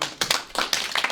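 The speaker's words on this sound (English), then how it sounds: "Another round of applause." Applause from a class audience after a student's lecture presentation on excited-state chemistry, a short round of uneven bursts of clapping from a few nearby hands.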